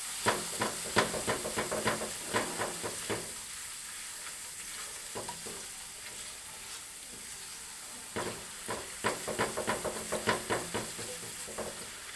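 A dark roux stirred in a hot pan that still holds fond from frying pork chops, with bursts of rhythmic spoon scraping over a steady low sizzle, close and clear, pausing midway before the stirring resumes.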